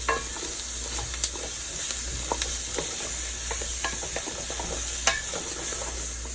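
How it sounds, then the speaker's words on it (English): Onions and bell peppers fry in a pan on a stove, giving a steady soft sizzle with occasional light clicks and taps from stirring utensils. "some onions and bell peppers frying on the stove."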